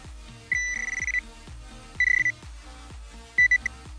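A metal detector in all-metal static mode sounds off over a buried 1940s holed ten-centime coin, giving three bursts of steady high electronic tone at moderate level, each one pulsing, over a background of low repeated thumps.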